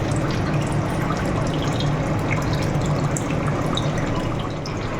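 Rinse water from a mixer-grinder bowl poured into a simmering fish-roe curry, a steady close splashing and trickling that runs evenly throughout at moderate loudness.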